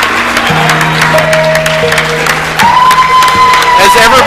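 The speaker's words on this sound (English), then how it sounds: "everybody around here is on their feet applauding these superstars" An arena crowd applauds and cheers wrestlers after a hard-fought match, a steady wash of clapping and voices close and loud, with a commentator talking over it.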